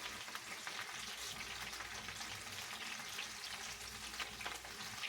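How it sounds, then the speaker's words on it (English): Vegetables browning in a hot pan, a dense, continuous crackling sizzle at steady moderate volume with no talk over it. "I like mine a little on the brown side, so we're going to brown this up"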